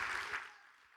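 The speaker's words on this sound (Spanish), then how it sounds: "¿Puedes darle un fuerte aplauso a nuestro Dios?" Applause from a church congregation during a Spanish-language sermon on Hebrews, a broad burst of clapping that starts loud and fades out within a second.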